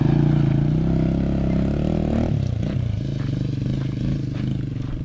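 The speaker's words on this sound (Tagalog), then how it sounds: "Umandar din yung motor" Motorcycle engine on Sibuyan Island, Romblon, running close by with a low, rough idle rumble and a shift in tone partway through, then a steady chug with faint clattering.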